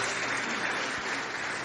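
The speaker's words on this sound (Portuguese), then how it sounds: "gostaria que vocês dessem uma grande salva de palmas para o Hélio e para a Fernanda" Brief, fairly faint applause from an audience at a talk, a steady wash of clapping without a clear start or finish.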